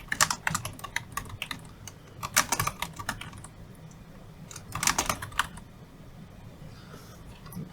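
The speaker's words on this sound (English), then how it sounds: "you can manually type in your school's information" Computer keyboard typing in quick uneven bursts separated by brief pauses, close and clear, with no talk.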